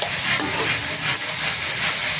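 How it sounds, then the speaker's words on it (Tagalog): Tuna flakes sautéing in a pan with onion while being stirred: a steady, close sizzle and hiss with faint scraping, continuous throughout. "igigisa po natin ang tuna flex"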